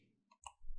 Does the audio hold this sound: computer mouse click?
yes